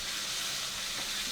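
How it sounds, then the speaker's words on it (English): A pot of water at a rolling boil on the stove, a steady close broadband bubbling hiss with no pauses, heard alone without talk. "So, I have my water already boiling back here."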